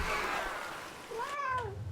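A pet cat lets out one rising-and-falling meow late in a short stretch, heard near and fairly clear over faint game sounds and room noise, with no talking during the call.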